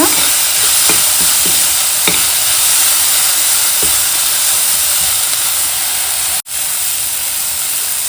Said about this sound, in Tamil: நம்ம சின்ன சின்னதாக கட் பண்ணி வச்சுருக்க பீன்ஸை இதில் சேர்த்து நல்லா வதக்கணுங்க.